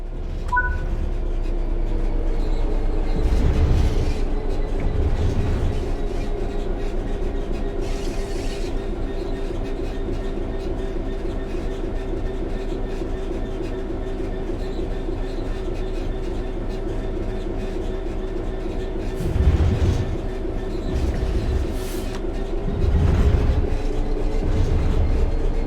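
A simulated train in Train Sim World 3 coasting on level rails, a steady rumbling roll with humming tones and periodic louder clacks of wheels over rail joints, no talk.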